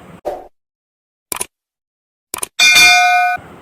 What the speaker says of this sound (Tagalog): please subscribe and click the notification bell